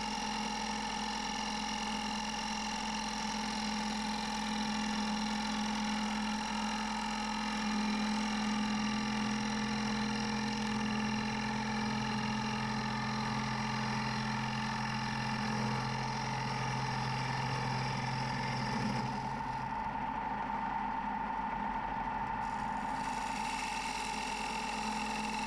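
Wood lathe turning a willow bowl while a 40-40 grind gouge cuts, giving a steady, continuous motor hum with even tonal drone that holds for the whole stretch and shifts slightly near the end.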